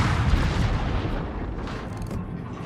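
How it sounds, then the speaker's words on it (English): A destroyer's naval guns in World of Warships fire high-explosive shells, deep booming reports rolling together into a continuous heavy rumble with no voices. "I'm firing into Italian smoke with HE"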